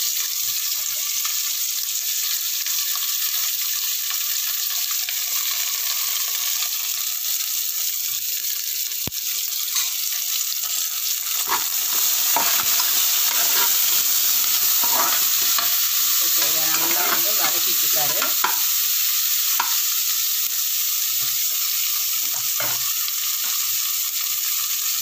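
Green chilies and onions sizzle steadily in hot oil for a budget mutton biryani, with a spoon or ladle scraping and stirring the pan in irregular bursts through the second half and no talking.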